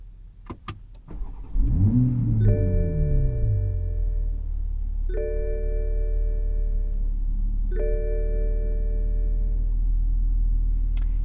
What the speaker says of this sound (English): you're going to hear that beautiful sound of the inline 6-cylinder